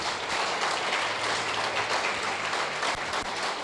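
A church congregation gives a sustained round of applause during a sermon, dense even clapping that fills the room for a few seconds without a break.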